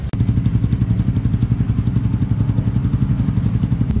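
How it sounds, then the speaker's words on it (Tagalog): Motorcycle fitted with a power pipe exhaust idles and revs with a deep bass tone, a steady low pulsing rumble close by and loud throughout, with no speech. "Power pipe, base yung tunog, tsaka hindi bulahaw"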